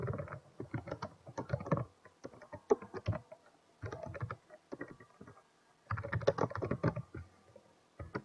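Rapid typing on a computer keyboard, bursts of quick clicking keystrokes separated by short pauses, close and clear with no voices.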